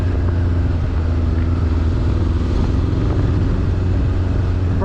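A Honda Blackbird motorcycle ridden over very rough roads in Johannesburg, its engine a steady loud drone with road rumble and wind buffeting throughout, no talking.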